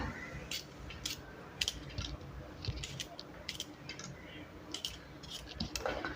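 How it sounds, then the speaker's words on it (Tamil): Four garlic cloves sliced with a knife in a home kitchen, giving a run of quick, crisp close-up cuts and clicks with no talk. "ஒரு நாலு பூண்டு வந்து அப்படியே கட் பண்ணி போட்டுக்கலாம்"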